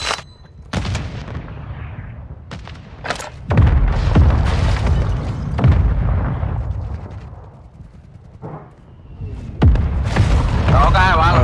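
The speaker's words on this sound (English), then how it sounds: "Our mortar strike is inbound." Mortar strike explosions in Call of Duty Warzone 2 land as a series of loud, deep booms with rumbling tails, spaced several seconds apart, while players talk over them.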